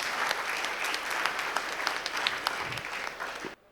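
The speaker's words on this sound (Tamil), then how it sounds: "மலர்விழி அவர்களுக்கு பெரிய கரகோஷம் கொடுங்க" A crowd at a Deepavali pattimandram comedy debate show gives the speaker Malarvizhi a big round of applause, a dense, even burst of clapping that cuts off abruptly near the end.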